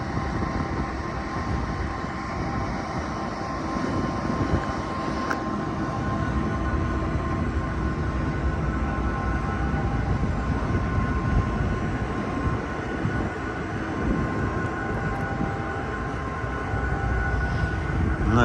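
Metra SD70MACH diesel locomotive departing Elgin, Illinois, a steady heavy rumble with droning engine tones holding at constant loudness throughout, no talking.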